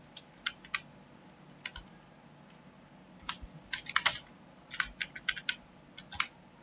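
Keys clatter on a computer keyboard in irregular bursts of close, crisp clicks with short pauses between runs of typing, nobody speaking.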